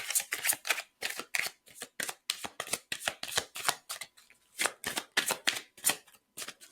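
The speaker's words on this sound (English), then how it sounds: "One more shuffle." A Shamanic Healing Oracle card deck being shuffled, giving repeated crisp riffling bursts in a steady rhythm, close and fairly loud, with no talking.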